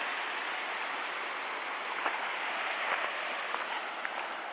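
A river flows beside a van campsite, giving a steady, even wash of water that stays moderately distant and unbroken, with a few faint splashes and no voices.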